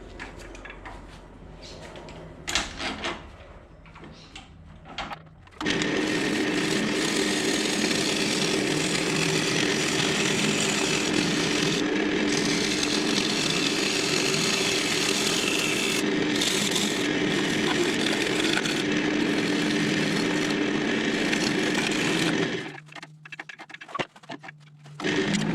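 Construction pine bowl spinning on a wood lathe while a tool flattens the bottom: after a few seconds of quiet handling knocks, a loud, steady cutting roar runs for about seventeen seconds, then cuts out.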